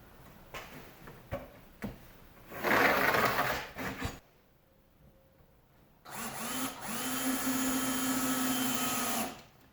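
A cordless drill whirs in bursts while driving screws into a garage workbench: short pulses, then a long sustained run, a pause, and another steady, loud whine near the end.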